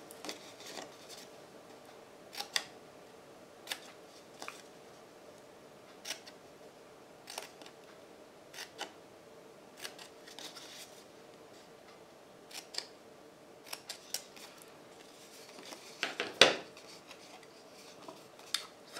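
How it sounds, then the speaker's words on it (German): Small paper glue tabs are snipped with scissors while crafting an Advent calendar book, giving scattered faint cutting clicks spaced a second or two apart, with a louder snip near the end and no talk. "Ihr könnt entweder kleine Dreiecke rausschneiden oder ihr könnt es auch einfach nur einschneiden."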